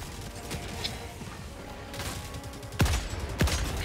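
Automaton enemies open fire in Helldivers 2, with sharp shots cracking through a dense, noisy battle soundscape; two louder blasts stand out near the end.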